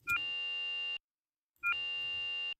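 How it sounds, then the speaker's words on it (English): A bilge water warning buzzer in the video game Stormworks sounds twice, each a steady, loud electronic tone lasting about a second, separated by a short silence. "There we go, we got a buzzer here."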